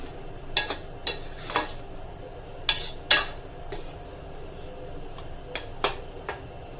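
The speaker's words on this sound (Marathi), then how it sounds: "ही पेस्ट आता आपल्याला ह्या भाजीमध्ये चांगली मिक्स करायची आहे" Tomato paste is stirred into a cauliflower and green pea curry in a pan, the spoon clinking and scraping against the metal in irregular bursts over a faint sizzle.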